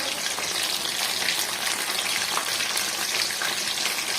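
Mushrooms fry in hot oil for mushroom chilli, giving a steady, dense sizzle and crackle that holds at an even level throughout, close by with no talking.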